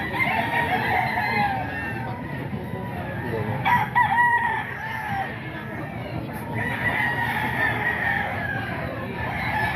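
A rooster crows repeatedly at a busy market where chickens are offered for sale, the calls standing out over steady crowd noise and background chatter.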